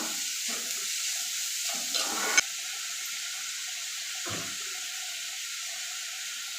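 Onion and masala fry and stir in a pan, a steady soft sizzle running through with a few scrapes and clinks of a spoon, close and alone without voices.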